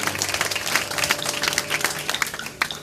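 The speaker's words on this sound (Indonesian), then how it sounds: "Yang mau jadi pemenang, berikan tepuk tanganmu pada Tuhan." A church congregation at GBI Suropati applauds during a 2016 service, with brisk, continuous clapping that rattles on throughout and ends in a few last sharp claps.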